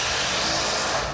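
Continuous hiss of a water solution being sprayed over running engine components, broadband and steady at close range for the whole moment with no talking.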